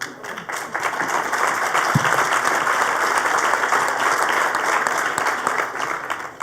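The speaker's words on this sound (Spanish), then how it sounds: "el aplauso quiere decir que coincidimos" Sustained applause from an audience at a political dialogue forum with a presidential aspirant in Mexico, a broad steady wash of many hands clapping that stays even throughout, with no speech over it.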